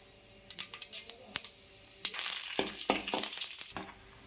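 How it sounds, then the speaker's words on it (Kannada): Mustard seeds and cumin tempering in hot oil, a crackling sizzle with quick sharp pops that thickens into continuous spitting, close and moderately loud. "ಒಗ್ಗರ್ಣಿಗೆ ಸ್ವಲ್ಪ ಎಣ್ಣೆ ಹಾಕೊಂಡ್ರಿ. ಸಾಸಿವೆ ಹಾಕೋರಿ, ಸ್ವಲ್ಪ ಜೀರಿಗೆ ಹಾಕೋರಿ"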